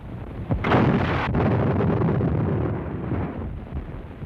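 A single heavy gun blast booms close by, followed by a long rumbling echo that slowly fades out.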